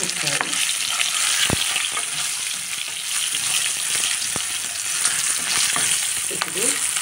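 Turmeric and salt stirred in a hot frying pan while making gongura tomato curry: a steady, loud oil sizzle runs throughout, broken by a few sharp scrapes of a spoon against the pan.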